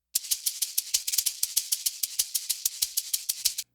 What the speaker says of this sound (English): You got the maracas.